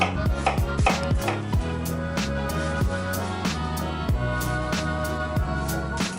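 A kitchen knife chops ingredients for lasagne on a cutting board, with a steady run of crisp, close, loud strokes over a low background hum.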